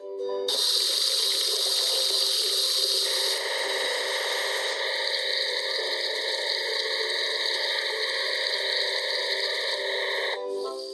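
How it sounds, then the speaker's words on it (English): A steady spray of water rushes continuously while washing a crane with a cargo bed in a kids' video game, with the tone shifting partway through before stopping near the end. "Let's wash the crane with cargo bed."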